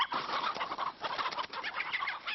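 Chickens cluck and murmur in an outdoor surveillance henhouse, a close, busy chorus of soft overlapping calls with no talk.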